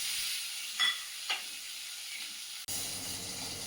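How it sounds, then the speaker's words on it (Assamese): Leftover pieces of fish fry in hot oil with a continuous close hiss and sizzle, broken by a couple of brief spatters, then a sudden cut to a quieter, lower hum. "এয়া বাকী থকা মাছকেইপিছো ধুনীয়াকৈ ভাজি লওঁ ব'লক"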